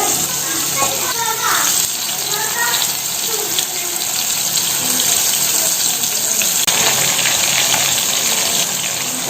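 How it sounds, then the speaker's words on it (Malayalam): Brinjal slices frying in hot coconut oil give a steady, loud hiss and bubbling sizzle that carries on throughout without pause. "അപ്പോൾ ഇനി വഴുതനങ്ങ ഫ്രൈ ചെയ്തെടുക്കാം."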